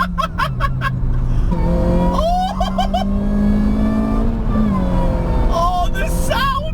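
A supercharged 216 bhp Ford Focus pulls hard in second gear, its engine note rising steadily and loud with a whining edge, while people inside talk and exclaim excitedly over it.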